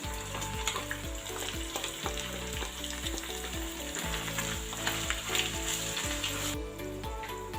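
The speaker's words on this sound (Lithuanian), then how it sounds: "dabar čia dedam apsikepti mūsų dešrelę" Sausages fry in a pan for a potato kugelis, a soft steady sizzle with light crackle beneath a prominent musical backing.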